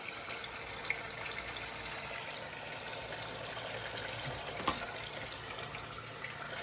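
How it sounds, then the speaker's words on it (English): Air bubbling through the coolant in a Toyota Supra's intercooler (interchiller) system, heard as a steady, fairly quiet wash of gurgling, trickling fluid with one or two small sharper pops and no talking. "Because normally it wouldn't make that bubbling sound."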